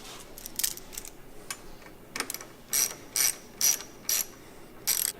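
A ratchet with a 6mm socket snugs side guard bolts on a National Cycle P4202 install, a few soft clicks then five evenly spaced bursts of sharp ratcheting, close up and alone.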